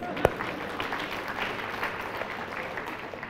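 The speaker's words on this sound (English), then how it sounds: "Let's give him a clap." Church congregation clapping for a man during a sermon, a brief sharp clap at the start and then a steady, fairly loud wash of applause from the room.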